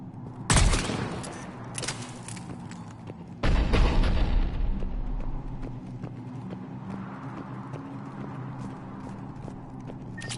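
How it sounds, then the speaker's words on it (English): Two heavy booms of cannon fire in the Mass Effect Legendary Edition video game, with a rumbling tail after the second, followed by a steady background of clattering battle noise. "The cannon fire is clearing the way."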